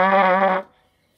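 A single trumpet note, an E, rings out bright and steady for just over half a second before cutting off into silence.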